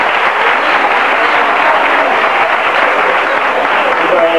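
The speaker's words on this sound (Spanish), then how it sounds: "vamos a dar un aplauso que se anime" A crowd at an Andalusian gathering breaks into loud, sustained applause, a dense uniform roar of clapping hands at close range throughout.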